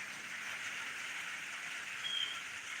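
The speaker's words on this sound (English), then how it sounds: "Starting to rain more." Steady, even rain patter fills the scene with a continuous soft hiss, no voices, slightly swelling near the end.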